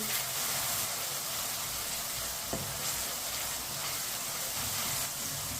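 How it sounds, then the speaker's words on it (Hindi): Tomatoes and green chillies softening in a pan for masoor dal, giving off a constant close sizzle and hiss of frying, steady and even for the whole stretch, with no talk. "अब इसे 3 मिनट के लिए पका लेंगे।"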